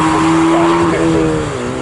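Race car in a BRSCC Clubsport Trophy race at Snetterton pulling into the pit lane, a steady loud engine drone with a held pitch that shifts slightly, and a commentator talking over it throughout.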